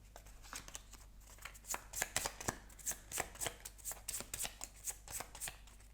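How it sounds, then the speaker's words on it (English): Colour cards from the This War of Mine board game being shuffled up close, a run of quick papery riffles and snaps in irregular bursts over about six seconds, with no talking. "Let's shuffle the color cards."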